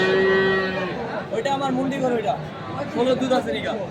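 A dairy cow at a busy village cattle market lets out a long, loud moo, followed by the murmur of a crowd and nearby voices talking.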